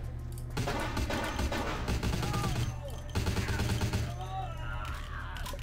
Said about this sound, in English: Getting shot from over there.